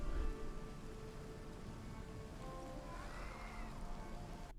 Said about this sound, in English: Is the rain red? Is it raining blood?